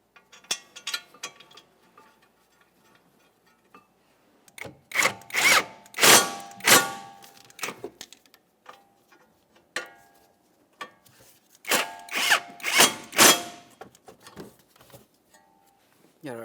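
Bolts on a 2014-2019 Toyota Corolla front brake caliper bracket are run in and snugged with a power tool, giving several loud whirring bursts separated by quiet pauses.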